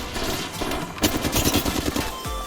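Gunfire in the Apex Legends video game during a Rampart match, with rapid bursts of automatic weapon shots cracking loudly in quick succession from start to finish.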